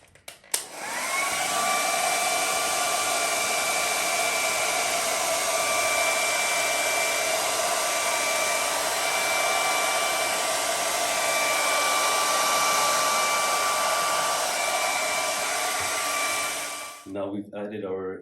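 A hair dryer with its front removed blows continuously at high speed, a loud, steady whoosh with a faint whine, cutting off abruptly near the end.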